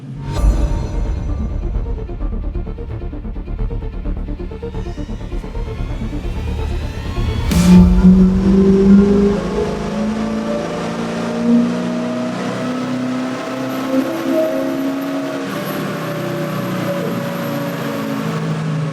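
A Jeep engine built for a 1000 hp attempt runs a dyno pull, a loud, sustained wail that climbs steadily through the revs, with a sharp change partway through before the engine drones on at a high pitch.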